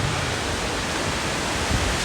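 Steady, full-bodied rush of mountain waterfall cascades in the High Atlas, a continuous broadband roar heard close and alone with no voices over it.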